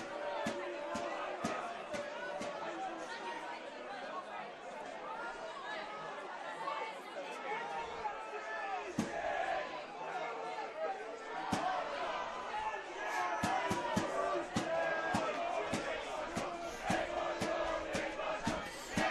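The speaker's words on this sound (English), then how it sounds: "The Uni crowd doing their best to get behind their team." University supporters at an outdoor women's rugby match cheer and chatter in a steady, lively crowd roar with sharp shouts and claps, while a commentator talks over it throughout.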